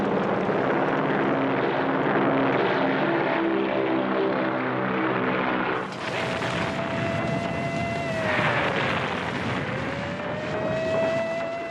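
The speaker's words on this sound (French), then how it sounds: "Les porte-avions américains embusqués à proximité de Midway lâchent leurs avions à l'assaut de la flotte" American World War II carrier aircraft near Midway launching to attack the Japanese fleet, a loud sustained propeller engine drone that shifts midway into a higher whining pitch, with no voices over it.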